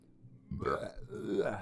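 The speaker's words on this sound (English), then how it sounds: "That was a belch." A single short, low belch rises from near-silence and lasts about a second, close and fairly quiet.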